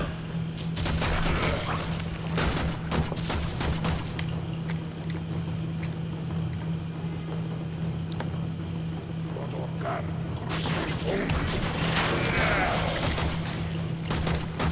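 Bursts of gunfire in Warframe crackle in clusters, with loud volleys at the start and again near the end and quieter scattered shots between them, all over a constant low hum.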